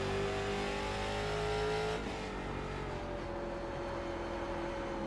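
A street stock race car in the iRacing simulator revs hard along the straight, then the engine note drops sharply as it lifts off into a braking zone, a loud, close, continuous engine tone.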